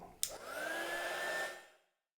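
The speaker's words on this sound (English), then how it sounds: "what I might do now is to actually put a hairdryer on it" A hair dryer switches on with a click and blows steadily with a whining hum over a watercolour painting for over a second, then winds down and falls silent.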